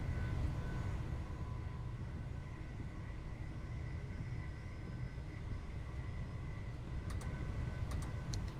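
A Class 377 commuter train runs inside a tunnel on the Brighton Main Line in Train Sim World 2, giving a quiet, steady low rumble and hum, with a few faint clicks near the end.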